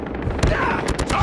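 Automatic sentry gun fire in Call of Duty Mobile, a dense, continuous rattle of rapid shots with a few sharper bursts standing out, loud and close amid game action.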